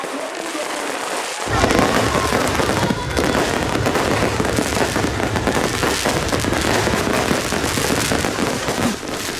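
Fireworks at a New Year's Eve celebration, watched by crowds at a city roundabout, burst into a dense, loud, continuous barrage of crackling bangs and booms after a brief quiet opening second.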